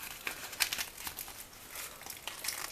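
Close, faint crinkling and tearing of SanDisk micro SD card packaging, plastic and paper rustling in short irregular bursts for a few seconds.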